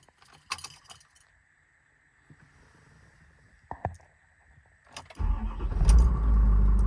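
Diesel engine of a 2021 Ford F550 service truck cranks and catches, then runs loudly near the microphone, following keys jangling, door handling and faint cab sounds.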